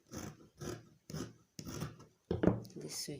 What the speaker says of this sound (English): I'll make a curve, and I'll just trim it